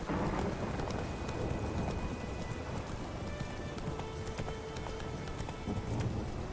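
Steady clip-clopping hooves of Geralt's horse Roach trotting in The Witcher 3, a continuous rhythmic patter under game ambience with faint tonal effects.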